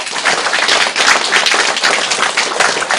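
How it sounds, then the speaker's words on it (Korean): An audience claps in a dense, steady burst of applause that fills the whole stretch at fairly close range, during a Buddhist dharma talk on the Diamond Sutra. No talking is heard. "박수 쳐요."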